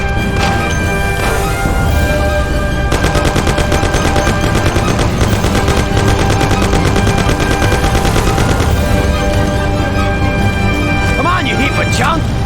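Rapid bursts of automatic gunfire crackle through a shootout in the Mafia PC game, loud and sustained for several seconds, with shouting voices and vehicle noise mixed in before the shots taper off.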